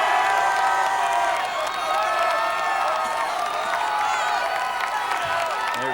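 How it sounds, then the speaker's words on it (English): A spirited football crowd on the East Lansing side cheers and whoops steadily through a 1991 Class A high school championship game, a dense wash of shouting voices that holds loud and continuous throughout. "There's some of that spirited crowd, this time on the East Lansing side"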